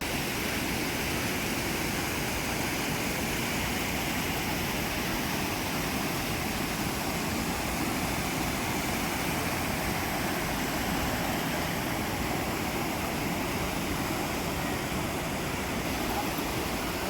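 Foamy sewage water rushes forcefully through a polluted lake channel, a dense and steady roar that never lets up from start to finish.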